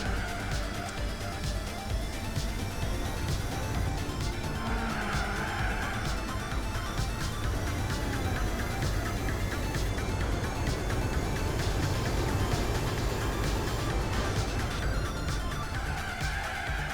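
A Lancia race car in Gran Turismo 4 drives laps with a steady engine drone, moderately loud and continuous, with faint tire-skid squeals at moments.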